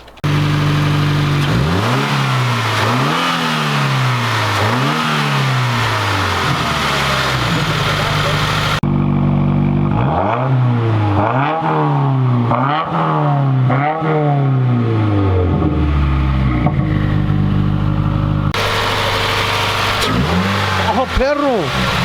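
A 2018 Subaru WRX with its stock intake revs repeatedly, the engine note climbing and dropping in quick successive blips over a steady idle, loud and close, with a short break midway.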